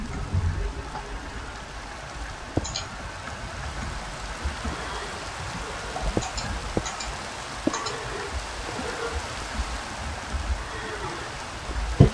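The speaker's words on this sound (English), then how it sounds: "I thought the rain had stopped" Steady soft hiss of falling rain in Minecraft with occasional light clicks and taps, continuous and fairly faint, no voices.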